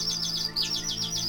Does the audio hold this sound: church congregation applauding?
no